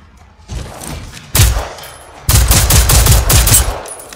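Pistol fire in the video game Generation Zero, with close-range gunshots in quick bursts: a first shot, another loud crack, then a rapid string of shots with echoing tails.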